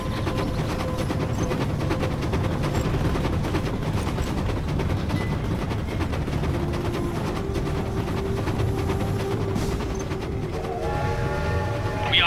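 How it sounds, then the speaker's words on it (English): Game train from C&C Generals rumbling steadily nearer, a continuous loud roll of wheels with a sustained horn-like tone rising toward the end, mixed with battle noise. "There's a train coming!"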